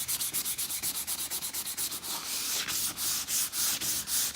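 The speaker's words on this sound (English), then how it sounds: "just to sand that filler." Flexi filler on a leather car seat is sanded by hand in steady back-and-forth strokes, a loud rhythmic rasping scrub that repeats evenly with no voices.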